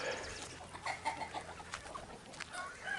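Several chickens cluck and murmur nearby in short, irregular bursts while eating, with soft pecking-like sounds and faint background noise.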